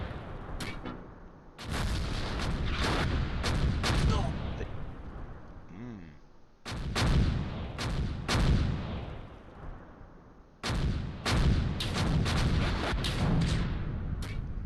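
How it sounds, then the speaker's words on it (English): Mortar and artillery fire in the World War II strategy game Close Combat: Gateway to Caen, several loud booming blasts with rumbling tails in clusters, while someone talks over and between the explosions. "So the mortars are not going to be something I can call upon quickly."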